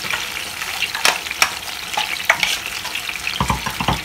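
Whole brinjal with coarse garlic masala cooks in a pan over a slow flame, giving a steady close sizzle broken by a few sharp crackles and stirring clatters.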